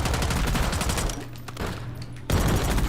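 Rapid automatic gunfire in a video game rattles loudly in fast, continuous bursts, briefly dropping in intensity before a heavy burst resumes.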